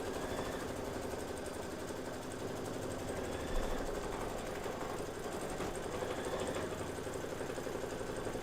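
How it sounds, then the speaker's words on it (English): An embroidery machine stitches an outline on a Kimberbell Sweet Land of Liberty quilt block, with a steady, even mechanical whir and fast needle chatter that runs on continuously at moderate level. "And then we're just going to be doing some outline stitching."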